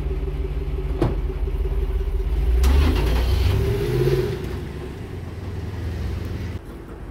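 A car engine hums and revs during a drive, swelling louder midway before settling back to a steady mid-pitched drone, close and continuous with no talk.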